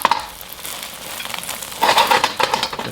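Fried rice ingredients sizzling in a pan just after a flip, a soft sizzle that swells into louder bursts of crackling and scraping toward the end.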